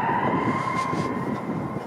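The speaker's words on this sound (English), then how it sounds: "oh, somebody's going at it with a siren." An emergency vehicle siren wails along a Toronto waterfront street, a steady sustained tone heard from a moderate distance over city traffic noise.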